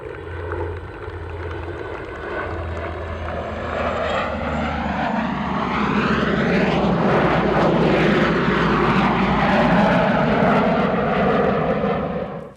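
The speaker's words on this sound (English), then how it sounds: "A B-17, the technology of 50-some years ago, and 2 F-18 Hornets from your United States Navy." A B-17 bomber flies over with two Navy F-18 Hornets at an air show, a loud, steady roar of propeller and jet engines that swells and sweeps past overhead without any talking.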